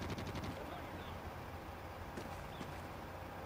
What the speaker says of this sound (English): I'm using the honey badger with I think it's burst fire